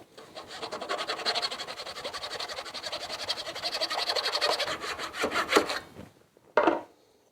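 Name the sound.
crosscut hand saw cutting plywood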